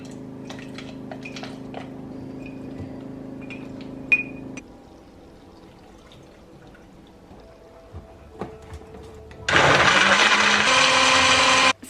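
Kitchen blender blending a smoothie with kefir and liquid ingredients, a faint motor hum with small clinks, then a loud high whirring burst as the blades spin up at the end.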